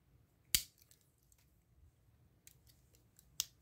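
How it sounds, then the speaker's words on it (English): Two sharp metallic snips from the scissors of a Victorinox Swiss Army knife, a few seconds apart, close and crisp, with faint rustling in between. "Got the scissors, good scissors, best scissors out of the multi-tools."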